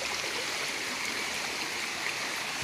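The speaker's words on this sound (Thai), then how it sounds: "ฟังเสียงน้ำสักหน่อยนะฮะ" A natural mountain stream in a valley flows in a steady, broadband rush of water, continuous and fairly close, with no voices over it.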